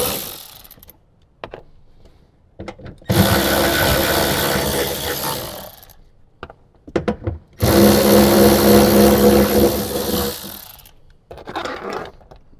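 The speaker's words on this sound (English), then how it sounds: "there's 3 more 10mm bolts that we're going to take out" Bolts on a Toyota Tacoma interior panel are being backed out with a 10mm power driver, two long whirring bursts of a few seconds each, separated by quiet handling clicks and small knocks, close and fairly loud.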